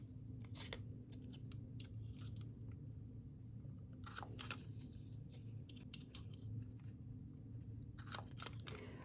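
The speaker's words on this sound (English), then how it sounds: "I'm going to simply cut these apart." Scissors cut apart pieces of paper for a scrapbook page, making quiet, crisp snips in scattered short clusters against a soft, low background hum.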